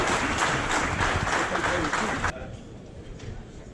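An audience claps for the vice-minister of Finance, dense applause that cuts off abruptly after about two seconds into a quieter room tone.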